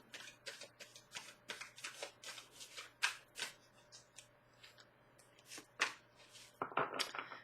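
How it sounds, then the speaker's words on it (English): Tarot cards are shuffled up close in a string of quick, papery riffling bursts, with brief pauses between them. "Let's do one more shuffle."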